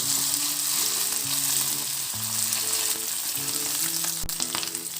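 Boiled potatoes frying in hot oil with cumin seeds while a fasting-day dosa is prepared, giving a loud, steady close sizzle over soft background music.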